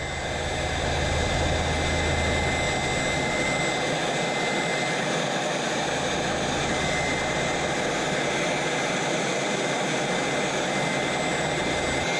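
A heat gun blows hot air onto faded, oxidized motorcycle fender plastic outdoors on a chilly day, giving a loud, constant roaring hiss that stays steady throughout.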